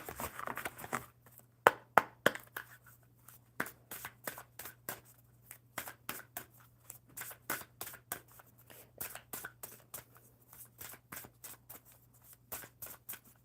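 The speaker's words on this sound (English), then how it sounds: "One more good shuffle for Hope." Tarot cards are shuffled by hand in a quiet room, heard as a fast series of crisp, close snaps and flicks in an uneven rhythm.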